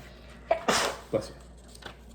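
A single person sneezes sharply indoors while a Lego monster truck set is being built, one loud burst framed by small breathy sounds just before and after.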